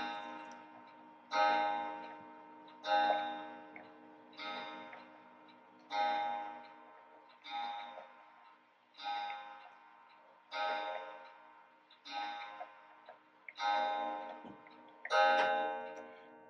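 A clock strikes the hour with about ten resonant chimes, evenly spaced roughly every second and a half, each ringing out and fading before the next, loud and close with no talking.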